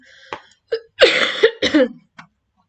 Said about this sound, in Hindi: अभी भी थोड़ी खांसी है